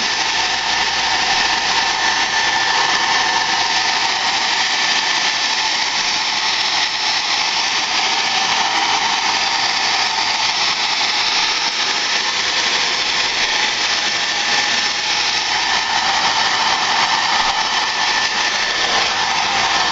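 A hair dryer blows steadily while a bob haircut is styled, a constant close whooshing roar with a thin whine, unbroken throughout and no talking.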